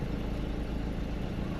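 A Toyota 22RE engine idles in a steady, dense low rumble, close and even, with no change in pace and no talking.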